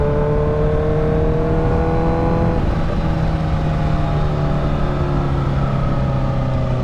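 A 2019 Kawasaki Ninja H2 motorcycle engine runs steadily and loud, its throttle easing up and down with small shifts in pitch, a continuous close-up drone with no talking.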